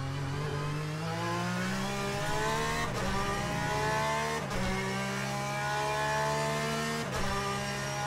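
Race car engine at Spa-Francorchamps in Le Mans Ultimate, a steady loud roar climbing through gears with sharp shift drops, revving continuously up close.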